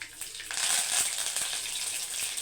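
Mustard seeds, cumin, dried chillies and curry leaves frying in hot oil, a close, bright hiss with scattered crackles and pops sustained across the whole moment.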